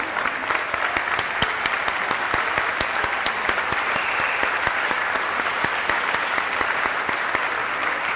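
Sustained applause from an audience at a school association awards event, many hands clapping steadily at close range for several seconds without pause.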